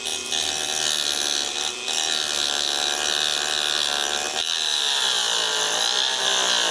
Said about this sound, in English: Now I'll try to carefully cut some grooves with the Dremel.